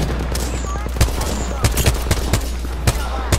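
Rapid automatic gunfire from a fast-firing weapon in the Apex Legends battle royale game, sharp repeated bursts of close shots cracking in irregular clusters over a busy in-game background with occasional voice.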